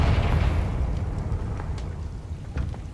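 Confringo spell blasts in Hogwarts Legacy, a rumbling burst with crackling debris that decays into a low roar, followed by a few fainter pops and flickers.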